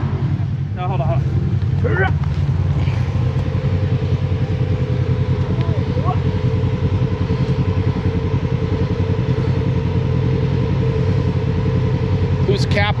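A car engine held on the gas runs steadily and loudly throughout, a continuous droning hum with people talking over it now and then.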